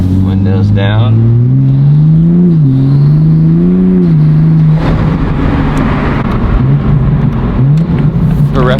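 Toyota Supra fitted with a 5-inch titanium single-exit exhaust, heard with windows down: loud deep engine note revving and easing in waves, then a rougher, noisier acceleration roar with rushing wind for the latter half.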